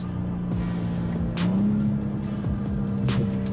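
A BMW M2 G87 with a 353 kW S58 engine drones steadily from inside the cabin, its exhaust throwing in a few sharp pops and crackles over the engine note, with no talking.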